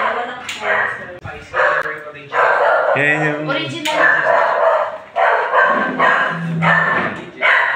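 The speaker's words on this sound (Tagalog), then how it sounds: "Marami bang mga aso, Day?" Dogs barking in short yips and bow-wows at a house in Tagaytay, mixed in with loud, close conversation that runs through most of the moment.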